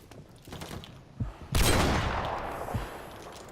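Gunfire from a Call of Duty match: a few soft, distant shots come first, then a loud burst of rapid fire that fades over a couple of seconds, with single reports between.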